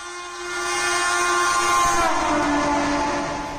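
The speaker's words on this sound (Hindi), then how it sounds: "ट्रेन के सफर के दौरान कई बार हमें इसका हॉर्न सुनाई देता है।" An Indian Railways train horn blares loud and close as one sustained tone that slides slightly downward midway, over the rumble of the moving train.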